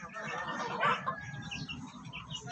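A Shamo hen close to laying eggs gives soft, low clucking calls outdoors, a brief faint murmuring sound with one slightly louder note near the start.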